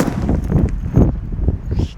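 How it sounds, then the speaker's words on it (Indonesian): A jumbo Whistling Thunder firework made by Top goes off outdoors, firing a rapid, dense series of loud crackling pops and bangs that stay close and keep going without a pause. "Sudah menyala Whistling Thunder."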